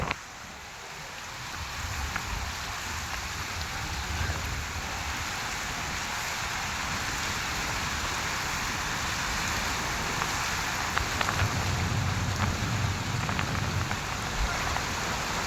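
Water at Ramdhari lake makes a soft, steady patter and wash, faint and continuous at a distance, with no talking over it.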